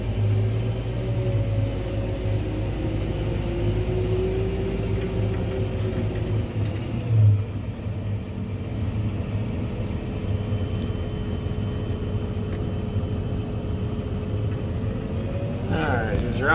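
A forage harvester chopping dry hay in a field gives off a heavy, steady mechanical roar and low rumble, continuous and close throughout.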